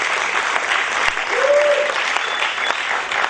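Steady audience applause at a theatre evening in Côte d'Ivoire, cheering the cast of a stage show; dense, even clapping throughout with crowd noise and a faint voice or whistle briefly audible.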